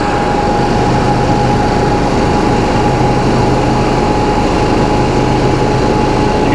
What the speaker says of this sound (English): You hear the generator getting louder.